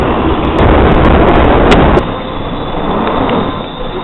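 A loud, continuous roar and rumble of a London Underground train running into a station, with faint clicks and clatters over it, easing slightly toward the end.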